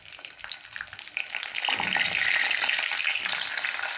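Curry leaves and green chillies dropped into hot oil with fenugreek for stuffed achari chillies, bursting into a loud, dense sizzle partway through that holds steady up close.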